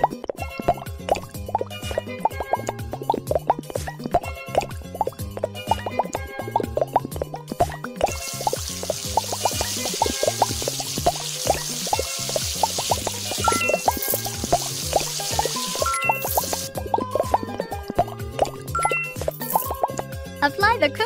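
Running shower water in a kids' jungle-animal hair salon game, a steady patter of drips and plops over a bouncy looping music track, with cartoon sound effects layered in.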